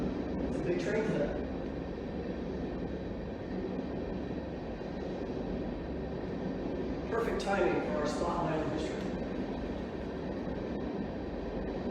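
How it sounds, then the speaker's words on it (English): A Norfolk Southern freight train rumbles past at a railway depot in a continuous low roar with rattling rail noise, while someone talks over it. "that's a freight train, folks, going by, Norfolk Southern"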